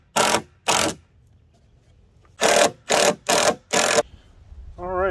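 A screw driven into wooden shed framing in short bursts: two quick whirring pulses, a pause, then four more in a row, loud and close, followed by a brief rising whine.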